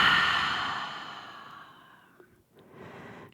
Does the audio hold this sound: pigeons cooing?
no